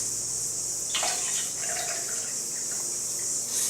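Water poured into a flower vase holding agapanthus and roses, a steady close trickle over a constant hiss with a brief stronger splash near the start.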